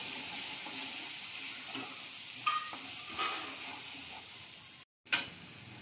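Coriander powder and red chili masala are sautéed and stirred in a pan, a steady, soft sizzle with a few scraping stirs and one brief break before the frying resumes.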